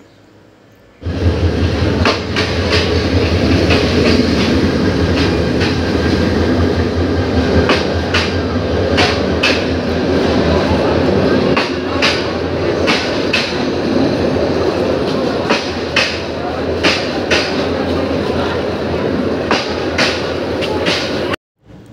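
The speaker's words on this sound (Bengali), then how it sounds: "আর আমার ট্রেনের খবরটাও হয়ে গেছে, আপনারা শুনলেন অ্যানাউন্সমেন্টটা। তো এখন ট্রেন আসবে।" A train pulls into a railway station platform in Dhaka, a loud, steady rumble with rhythmic clacks and rattling carriages that runs throughout and stops abruptly near the end.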